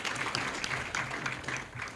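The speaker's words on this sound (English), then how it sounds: "Round of applause for the Honorable Speaker." Audience applause for the Speaker at a Kenyan Senate induction workshop, a steady wash of clapping from a crowd filling the room for about two seconds, fairly even in level with no voices on top.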